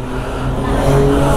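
Superbikes pass by on a road ride between Saputara and Surat, a steady rising engine roar that swells toward the end, heard alone without talk.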